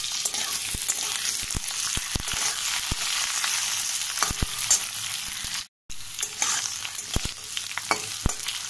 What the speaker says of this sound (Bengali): আলুটাও ভেজে নেব ভালো করে।